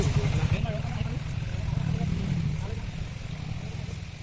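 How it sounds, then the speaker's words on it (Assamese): A motorcycle rides along a road, its engine a steady low drone heard throughout while people talk over it. "এইজন ভাইটি বাইক চলাই আছে"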